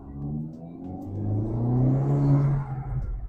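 Honda Civic Type R turbo engine while driving: a steady, rising mid-pitched engine drone under acceleration, heard from inside the car and building smoothly in loudness before easing slightly.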